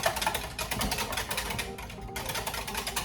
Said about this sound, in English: but keep whisking